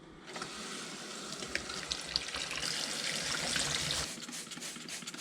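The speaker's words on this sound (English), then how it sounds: "you should be just fine with washing it out and calling it good" Yamaha TW200 motorcycle air filter rinsed under running tap water, a steady close hiss and splash of flowing water with small spattering changes as the foam is worked, ending in a softer trickle.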